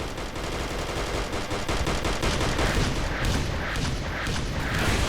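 Gunfire in the video game Fallout New Vegas, a dense run of rapid shots and bursts like machine-gun fire, continuous and fairly loud throughout.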